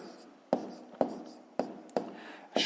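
A pen writing on paper for a fifth-grade maths exercise, with soft scratching strokes broken by several sharp taps, close and quiet.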